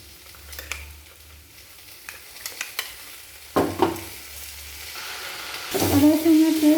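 Ginger garlic paste added to half-cooked potatoes and carrots frying in a pan, scattered spoon scrapes and stirring at first, then a sudden louder sizzle that builds toward the end.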